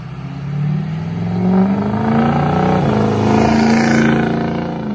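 Ford F350 with a 6.0 Powerstroke diesel on stock tuning idles and rises, a loud, close rumbling engine with a slowly shifting drone and rattly clatter, no voices.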